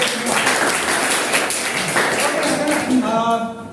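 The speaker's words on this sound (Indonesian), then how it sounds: "Oke, berikan aplaus baik." A classroom of students applauds together, dense clapping at close range that holds for a few seconds before thinning out, with a voice mixed in near the end.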